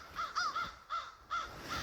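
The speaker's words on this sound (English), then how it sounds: "There's a whole bunch of birds up behind the house" Several crows caw in a quick series of harsh calls, fairly close and clear against a quiet outdoor background.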